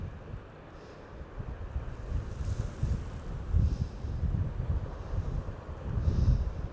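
Strong wind roars and gusts steadily outdoors in Scotland, buffeting the microphone with low rumbling surges that swell louder near the end.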